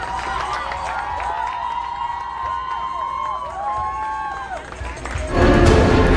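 A large crowd gathered in Washington, D.C. for Pope Francis's arrival fills the air with a steady murmur of voices and rising calls, swelling into louder cheering near the end.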